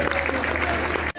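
Loud, steady applause from a large crowd at a gathering welcoming a Sri Lankan manager in Sindh, a dense clapping wash that cuts off abruptly near the end.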